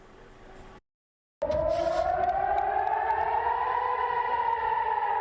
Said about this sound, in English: Bombs and air raid sirens going off in Jerusalem.